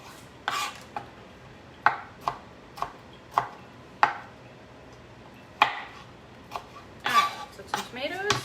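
A knife chops aging but edible tomatoes on a cutting board, a run of sharp, irregular close knocks that cluster more densely toward the end.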